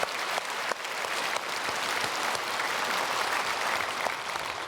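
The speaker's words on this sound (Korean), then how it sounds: "우리 찬양대에게 크게 박수로 축복하겠습니다" A church congregation at a Sunday worship service applauds the choir with steady, dense clapping that fills the hall at an even loudness throughout, with no voices over it.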